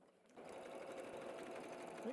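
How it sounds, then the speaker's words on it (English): A W6 N 9500C sewing machine running an overlock stitch, a steady close mechanical whirr with a rapid needle rhythm that starts after a quiet moment and continues evenly. "See, it sews forward on the left and does 2 stitches to the right."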